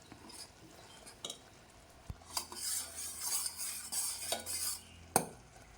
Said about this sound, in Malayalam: അതുകൊണ്ട് കുറച്ച് സമയം കൂടി നമുക്കൊന്ന് ഇളക്കാം